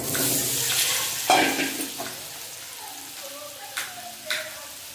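Cut potatoes fry in oil left over from frying fish heads, for muri ghonto: a bright, dense sizzle with stirring scrapes fades to a quieter hiss, broken by a few sharp clinks.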